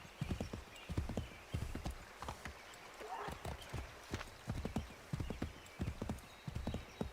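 Steady clip-clop of horse hooves trotting at a regular rhythm in the video game Assassin's Creed III, fairly close, with a brief whinny and some voices in the background.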